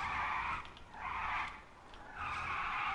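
Motorcycle tires skidding in GTA V on a Western Powersurge bike, three loud screeching bursts separated by brief dips as the rider alternately brakes and accelerates.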